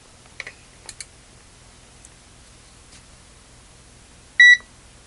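A Zotek ZT-703S handheld oscilloscope multimeter gives a single short, bright power-on beep near the end, after a few faint clicks of handling in an otherwise quiet room.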